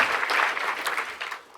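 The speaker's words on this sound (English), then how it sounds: "Give them a round of applause again" Audience applause for football coaches at an awards ceremony, a steady wash of many hands clapping that holds strong and then tapers off toward the end.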